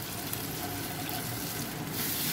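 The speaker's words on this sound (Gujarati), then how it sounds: "અને હવે આપણે આમાં થોડું પાણી નાખી દઈશું." Water pours steadily into a pan of crushed tomatoes and dried shrimp for about two seconds, a soft continuous splashing with no talking.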